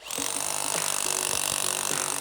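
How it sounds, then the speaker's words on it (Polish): A Parkside rotary hammer chisels steadily, giving a dense, continuous rapid hammering roar at a constant level throughout. "Jest to tylko młot udarowy. A ja myślałem, że to jest też wiertarka. Zobaczymy, jak to kuje"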